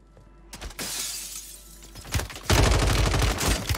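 Rapid, punchy shotgun blasts from an AA12 automatic shotgun in Warzone 3 ring out in quick bursts, with a sharp opening shot followed by a dense, sustained volley near the end, close and loud.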